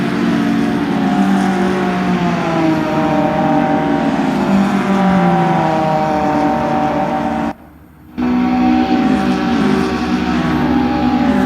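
BMW 325 race cars in an SMSA Group N circuit race, engines droning loudly and continuously with revving pitch sweeps as cars pass, briefly cut out for a moment near the end before resuming.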